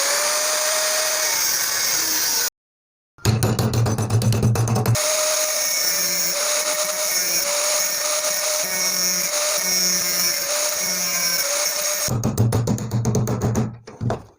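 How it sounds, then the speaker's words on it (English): Power tool cutting and trimming a plastic washing machine lid lock bracket, steady whining drone with rhythmic grinding pulses, briefly stopping and restarting, close and loud. "We will further trim the bracket from this section to ensure a proper fit."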